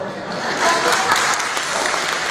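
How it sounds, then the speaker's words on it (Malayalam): Men in the audience at a UDF political convention in Kalpetta, Kerala, clapping as a dense, sustained wash of applause that holds steady throughout. "The clap from the men is not that strong."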